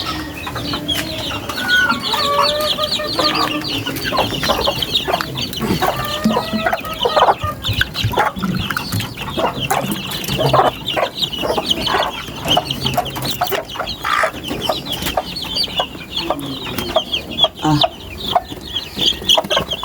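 Young chicks being given vitamin water peep and cheep continuously in high, busy bursts, with adult hens clucking nearby and no talking.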